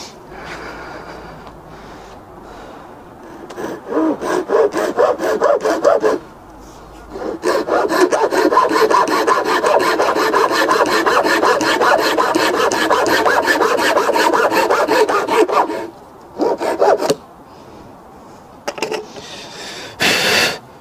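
A Japanese rip saw cuts through wood in long runs of rapid, rasping strokes, close and loud, pausing briefly before a few shorter bursts of sawing.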